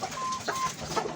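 Egg-laying hens in a coop give a brief, close cluck with short tonal calls and chatter over general farmyard noise.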